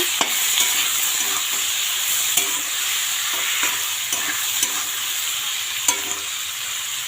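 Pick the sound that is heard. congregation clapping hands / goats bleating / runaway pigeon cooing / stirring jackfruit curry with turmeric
stirring jackfruit curry with turmeric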